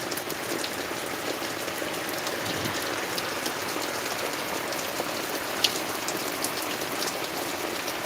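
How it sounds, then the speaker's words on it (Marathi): Heavy morning rain falls on a farm during a downpour, a dense, even hiss that holds at the same level throughout. One small sharp tick stands out partway through, and no one speaks. "सकाळी सकाळी पाऊस चालू झालेला आहे"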